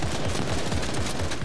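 Rapid, continuous video-game gunfire hammers at a building, a loud dense burst of automatic shots filling the whole moment with no voices over it.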